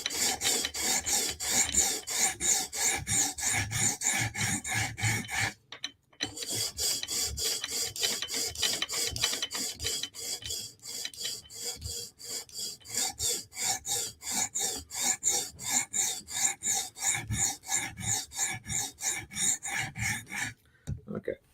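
Knife blades, a Para 3 and a Benchmade 940 with S30V steel, are stroked on a TSProf Kadet guided sharpener, giving a steady close rasping rhythm of repeated strokes with a couple of brief pauses.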